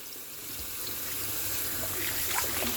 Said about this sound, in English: you run the tap on it